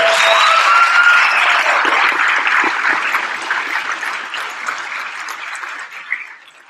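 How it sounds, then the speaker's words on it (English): A crowd at an awards ceremony applauds first-place winners with a few whoops early on, and the clapping gradually thins and fades toward the end. "Round of applause for all of our first place winners."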